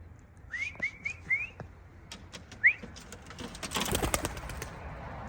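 A blue bar racing pigeon arrives home from a 370 km race, with a few short, bright whistling chirps close by, then a soft rustle and flutter building near the end.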